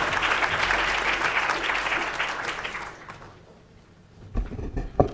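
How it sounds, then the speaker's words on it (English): An audience at an academic panel on the future of animal farming applauds the panelists, with a full round of clapping that fades out after about three seconds, followed by a quiet room and faint handling noises. "So please give them a warm round of applause"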